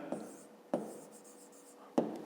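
Pen scratching out a maths exercise answer on paper, three short strokes with brief pauses, close and quiet, no voices.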